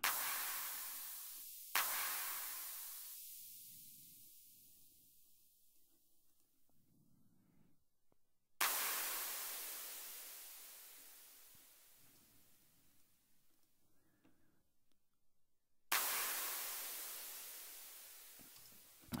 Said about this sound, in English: So maybe just turn the white noise up a tiny bit more.